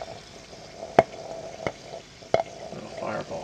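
Hydrogen bubbles from a gallium-aluminium reaction in water pop and crackle as they are lit, giving three or four sharp, faint snaps over a low background hiss.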